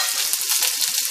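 Onion paste frying with garlic in a pan, a loud, close, continuous sizzle with no talking.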